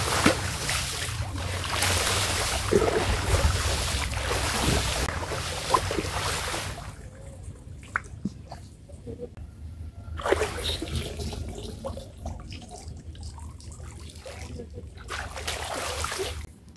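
Water runs and splashes during a bath, a steady broadband rush that breaks off for a few seconds midway and then starts again, close and moderately loud with no talking.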